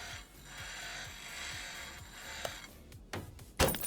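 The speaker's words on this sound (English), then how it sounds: "I'm going to repair this caliper" Ratcheting clicks and a few sharp mechanical clacks from repairing a brake caliper in Car Mechanic Simulator 2021, a quiet steady clicking run ending in a louder burst of clatter.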